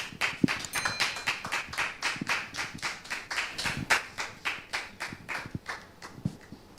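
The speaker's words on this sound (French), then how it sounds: "Public, merci de le recevoir sous vos applaudissements" A French TV studio audience applauds as a guest comes on set, a steady run of individual claps close together with no speech over it.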